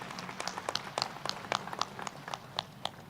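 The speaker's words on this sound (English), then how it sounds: "Please give big applause to our speaker." Audience applause after a talk at an international fisheries symposium, heard as a fairly faint, steady patter of clapping hands sounding from a moderate distance across the room.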